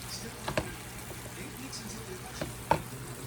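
Squash sautéing quickly on a stovetop, a soft low sizzle with a couple of sharp utensil clacks against the pan and faint background sound.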